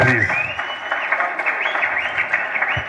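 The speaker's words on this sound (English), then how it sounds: "I think there's a lot of applause for them, please." Applause at a meet-and-greet with the Blantyre city mayor in Malawi, clapping rising under a loud speaking voice that continues throughout.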